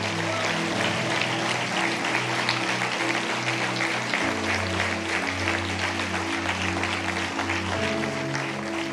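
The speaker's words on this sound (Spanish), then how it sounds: "Vas a darle un aplauso a Jesús." A church congregation claps in praise of Jesus, steady and loud broadband clapping mixed with sustained music tones underneath for the whole stretch.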